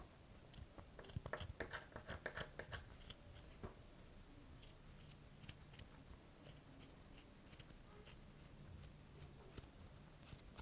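Scissors snip repeatedly through a piece of sock fabric being cut into a winter dress for a Barbie doll, producing close, crisp cutting clicks in irregular bursts over quiet background.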